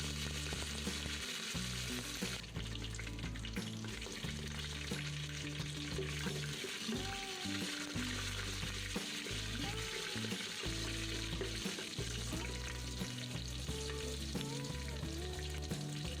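Urad dal and chana dal fry in hot oil in a pressure cooker, a dense, continuous crackling sizzle with occasional clinks and shifting bursts, heard up close without any voices.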